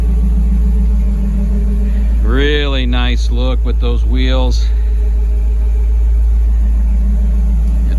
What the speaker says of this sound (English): Has a nice sounding exhaust, not too loud.